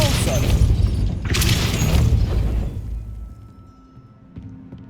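A Depulso force spell cast in the Hogwarts Legacy video game: a sharp, booming magical burst followed by a second whooshing impact, then the rumble fades into quiet with faint clicks.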